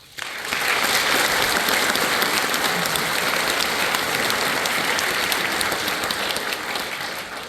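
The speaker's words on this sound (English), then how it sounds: "Let's show our gratitude by taking a moment for a round of applause." Full audience applause at an 8th grade graduation ceremony, rising quickly after a brief pause and holding steady and strong throughout.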